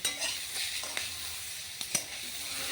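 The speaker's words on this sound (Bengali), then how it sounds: "পেঁয়াজটা দিয়ে ভালো করে ভেজে নিয়েছি" Onion frying in a pan for a Bengali dish with tender bottle gourd shoots: a steady hiss of oil carries a few sharp spatula clicks and scrapes.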